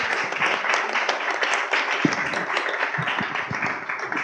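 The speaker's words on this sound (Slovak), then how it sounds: "že si zaslúžia potlesk" An audience applauds the guests at the close of a Slovak talk event, dense steady clapping throughout, fairly loud and close, with only faint voices underneath.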